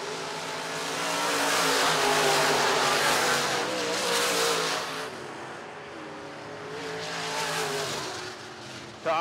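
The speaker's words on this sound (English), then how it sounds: "Two more corners remaining for Schoenberg to get around Brozick." IMCA modified race cars roar around Wakeeney Speedway, a steady loud engine drone that swells and fades as the pack passes, heard at a distance with some crowd-like wash.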